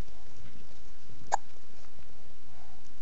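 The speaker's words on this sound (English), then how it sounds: "You have hiccups now for no reason." A single short hiccup from a dog, one sharp isolated burst near the middle against a quiet room background.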